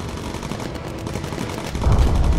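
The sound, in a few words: bomber gunners shooting in the video game Bomber Crew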